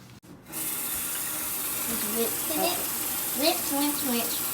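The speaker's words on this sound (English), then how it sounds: "I'm going to rinse it off just to make sure that we get all the dirt out" A kitchen tap runs steadily as leaves are rinsed in a colander, the close rushing of water continuing while someone talks over it.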